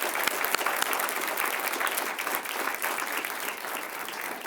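An audience at a Grand Rapids city oath of office ceremony claps in sustained, dense applause that holds at a steady level throughout, a roomful of hands heard alone without talk.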